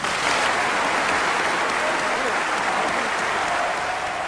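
Cheering and applause from a large hall at a party congress of East Germany's Socialist Unity Party: a loud, unbroken roar of massed clapping that holds evenly for the whole stretch.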